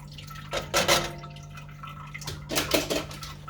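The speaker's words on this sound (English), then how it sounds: "now I'm going to go ahead and squeeze the nut milk out of the bag" Nut milk dripping and trickling from a squeezed straining bag into a container, two short bursts of close, splashy liquid spatter separated by a quieter pause, with no talking.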